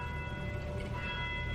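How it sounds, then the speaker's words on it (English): Clock bells chiming twelve at noon, a steady sustained ringing with overlapping tones and a constant low rumble beneath, no talk. "It'd be 12 bells."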